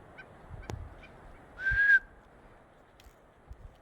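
A single short whistling bird call sounds once outdoors against a quiet background, fairly clear and brief, with a few faint knocks and rustles around it.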